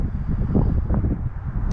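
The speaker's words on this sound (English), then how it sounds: "it's kind of windy today, so forgive me" Low, buffeting rumble of wind gusting against a microphone, muffled and uneven, without any talking.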